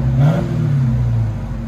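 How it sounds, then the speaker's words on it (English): Dodge Charger Hellcat with a supercharged 6.2-liter Hemi V8 and a muffler delete, revved once in a short, loud, close blip that rises and then settles back into a deep rumble. "We're not going to rev it too high because it's only got 300 miles."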